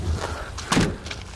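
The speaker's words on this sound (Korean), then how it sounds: "자, 문 한번 닫을까요?" Door of a 2004 Hyundai New Porter truck swinging shut, a single dull thud near the mic against faint background noise.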